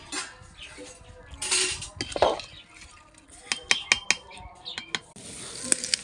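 A spoon stirring spinach into khichuri in a cooking pot, with scraping swirls, then a run of sharp metallic clinks and taps against the pot rim, close and fairly loud, ending in a soft hiss.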